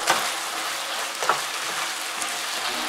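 Chicken stir-fry with mushrooms, bamboo shoots and sesame oil sizzles loudly in a hot pan as it is briefly stirred, a steady close hiss with a couple of brief scraping surges.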